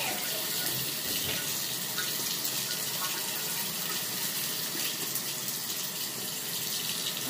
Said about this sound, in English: Cut the water off.